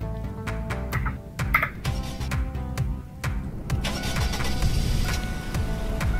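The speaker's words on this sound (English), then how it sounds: "Okay, that's the startup." A 2003 Ford Windstar engine starts up: clicks and whirring cranking, then the motor catches and settles into a steady, close idle hum.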